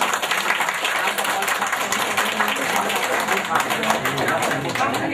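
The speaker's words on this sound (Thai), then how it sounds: "อ้าวช่วยกันปรบมือหน่อยนะ" Guests at a Thai wedding clapping together, a steady dense patter of many hands going on continuously while people talk over it.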